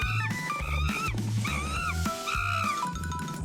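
A lion roars and growls in the Avatar World video game, several drawn-out roaring calls in sequence with brief gaps, layered over a looping background music track.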